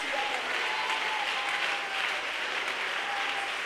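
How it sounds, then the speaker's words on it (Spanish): A church congregation breaks into steady, dense applause, many hands clapping together and filling the room without a break for the whole moment. "Dele aplauso a Él."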